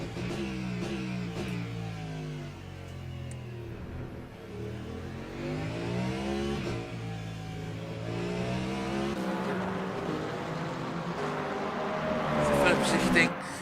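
Race cars lap the Bahrain circuit in the Le Mans Ultimate racing game, a Ferrari and a McLaren among them, their engines rising and falling with gear changes throughout while a commentator talks over them.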